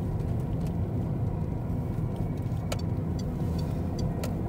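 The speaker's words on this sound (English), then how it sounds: "Left-hand drive truck." A left-hand drive truck in Alloa, Scotland runs with a steady, low engine rumble, close and continuous, with a few faint clicks on top.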